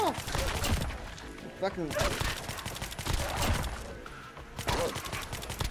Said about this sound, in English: I'll shoot you with this gun. It's a big gun, it's a G36 that sometimes shoots 50 caliber rounds.